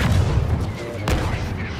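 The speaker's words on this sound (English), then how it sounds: "See how they like a little blaster fire." Blaster fire rattles in a Star Wars heroes-versus-villains video game: a dense, continuous volley of shots with one sharper crack near the middle, over a heavy low rumble.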